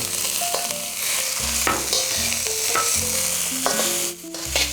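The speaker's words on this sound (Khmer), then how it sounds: "បន្ទាប់ពីចាំឲ្យប្រេងយើងក្តៅហើយចឹងយើងដាក់ខ្ញីដើម្បីបំពង" Sliced ginger frying in hot oil for a stir-fried ginger tofu dish: a loud continuous sizzle close by, broken by repeated scraping clacks of a utensil stirring in the pan, with no talking.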